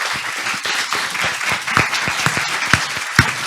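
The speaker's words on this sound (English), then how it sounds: "and now we may applaud." Audience applause at a panel discussion on homelessness, a burst of many hands clapping at close range, steady and brisk for the whole moment.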